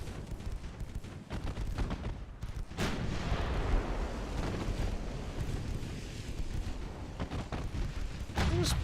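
Heavy warship guns fire in a naval video game as a continuous rumbling barrage of deep booms. Sharp salvos stand out near the start and again at the end.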